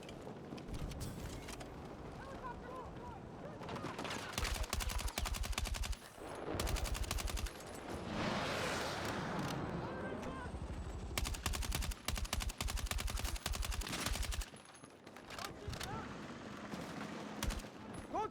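Battlefield 6 gunfire: dense rapid machine-gun bursts crackle close and loud in repeated volleys, broken by short pauses, with muffled game chatter beneath.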